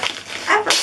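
A dog close by gives a short, sharp yip, mixed in with a man's brief speech.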